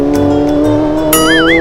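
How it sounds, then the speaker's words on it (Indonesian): Loud, close roar of a Kawasaki Z800 motorcycle fitted with an SC Project exhaust, a steady droning note that jumps into a sharp, wavering high whine near the end. "Pakai knalpot itu SC Project kawan-kawan. Jadi wajar kalau suaranya itu menggelegar."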